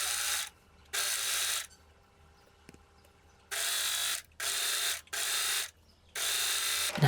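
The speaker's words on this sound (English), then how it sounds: "I'll finish the edges with my overlocker." An overlocker finishes the edges of a cotton blouse in five bursts of rapid mechanical stitching, each one to two seconds long, separated by short quiet pauses.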